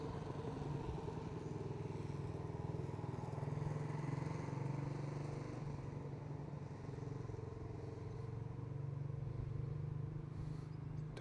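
A motorcycle engine drones steadily for the full stretch, fairly quiet and low-pitched, swelling slightly as if passing along a nearby road with no talk over it.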